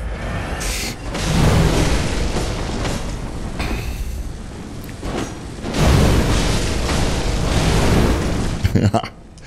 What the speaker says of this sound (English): There's the cannon.